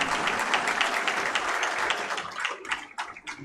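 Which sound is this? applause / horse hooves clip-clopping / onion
applause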